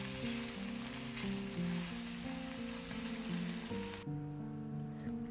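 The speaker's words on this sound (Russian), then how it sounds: "Все перемешиваем и готовим еще пару минуток на среднем огне." Chicken, potatoes and red bell pepper fry in a pan over medium heat with a steady hiss and crackle under music, and the sizzle drops away abruptly near the end.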